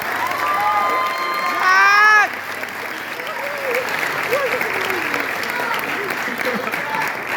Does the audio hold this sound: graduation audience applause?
yes